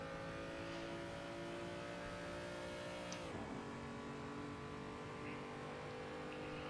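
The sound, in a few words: BMW 235i race car engine at Spa, video game Assetto Corsa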